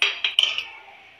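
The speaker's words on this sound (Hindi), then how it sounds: "और इसे हम अच्छी तरीके से चलाएंगे।" Sooji halwa with cardamom stirred in a pan, with a few quick metallic clinks and scrapes of a spoon against the pan that ring briefly and then fade.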